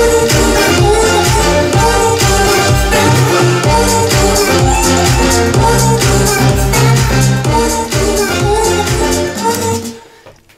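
An electronic music drop plays at full loudness, with pounding drums, washes of white noise and crash cymbals over a thick synth bed, sustained for about ten seconds before fading out near the end.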